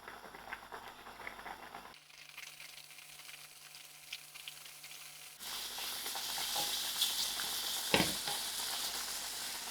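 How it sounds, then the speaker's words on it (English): Onions fry in about half a cup of oil for masoor dhal, giving a steady close sizzle that grows louder and denser partway through, with a few scraping clicks and no talking. "I'll allow these onions to fry a little."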